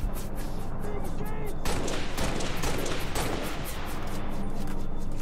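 Rapid turret gunfire in Halo Reach, a dense continuous fusillade of loud, close shots that intensifies partway through, with no pauses across the burst.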